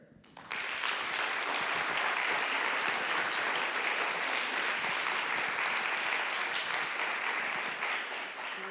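An audience breaks into warm applause to welcome a speaker at a gardening and wellness talk, the clapping swelling quickly and holding at a steady, dense roar before easing slightly at the end.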